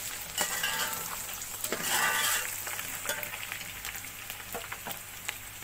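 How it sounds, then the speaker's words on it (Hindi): Ginger paste frying in a pan for achari pulao, a close, steady sizzle broken by scattered clinks and scrapes of a spoon stirring against the pan. "थोड़ी देर अदरक को भून लेंगे।"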